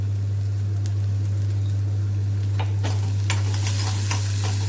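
Spices sizzle in hot oil in a pan for masala moong as they are stirred, a steady crackling fry over a constant low hum, with scraping stir strokes growing busier toward the end.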